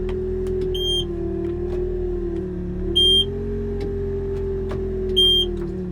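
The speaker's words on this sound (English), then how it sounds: "it's gonna sit and beep at you until you get hooked up" A Bobcat L85 loader's quick attach warning sounds as a high electronic beep repeating about every two seconds over the steady drone of the idling engine.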